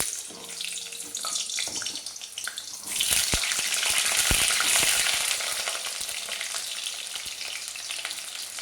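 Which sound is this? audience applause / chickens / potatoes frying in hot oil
potatoes frying in hot oil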